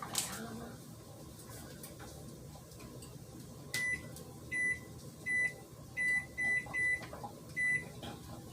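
A kitchen microwave oven timer is set with a string of seven crisp electronic beeps in uneven succession, following a few quieter clicks and faint background hum.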